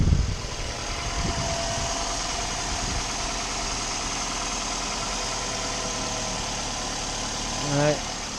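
A 2012 Nissan Versa engine idles steadily after an ignition coil replacement that followed a cylinder misfire. The hum is smooth and continuous, with a brief voice near the start and a short rise near the end.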